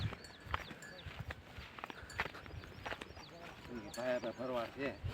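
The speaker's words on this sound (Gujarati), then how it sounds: "શાળાની ગાયો આવી ગઈ આયા." A herd of cows walks along a forest-like rural track, hooves clopping in an uneven, steady rhythm close by, with voices talking over them and a few low moos near the end.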